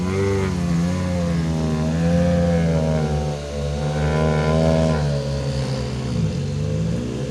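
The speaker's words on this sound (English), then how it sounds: "Look, Elvin Evans, second car into the stage." A WRC rally car on a Swedish snow stage roars past up close, its engine rising and falling through a steady run of revs and gear changes with a sustained, loud note and no talking.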